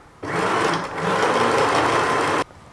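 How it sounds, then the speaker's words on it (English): A sewing machine stitches the center front seam of a lace gown with a close, steady whirring run of about two seconds, briefly easing midway, then stopping abruptly. "Stitch the center front seam."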